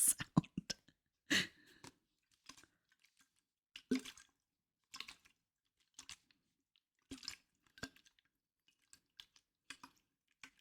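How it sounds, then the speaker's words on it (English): Sparse, close, quiet water drips and small wet squishes fall at irregular intervals over near silence, an amateur ASMR-style recording of water sounds. "I don't know whether this is a relaxing water sound."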